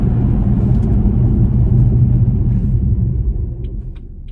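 A 2016 BMW 440i M Sport with an automatic gearbox slows under braking from 60 mph, its steady low road and engine rumble filling the cabin and then fading as the car comes to a stop.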